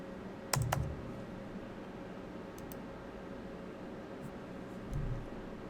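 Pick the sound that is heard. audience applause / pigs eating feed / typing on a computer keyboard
typing on a computer keyboard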